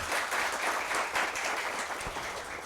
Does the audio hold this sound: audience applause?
yes